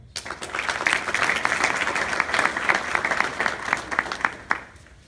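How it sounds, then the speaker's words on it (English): A crowd at a Marine Corps JROTC awards night applauds drill team cadets with a dense, continuous wash of clapping that swells, holds steady and fades near the end. "We applaud them for their accomplishments."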